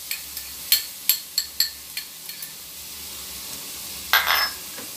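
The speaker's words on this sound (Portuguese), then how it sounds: "Vamos estar refogando aqui a nossa cebola." Chopped onion gently sautéing in a pan for a Brazilian fish and chickpea stew, a soft, faint sizzle under several crisp clicks and scrapes of a spoon stirring against the pan.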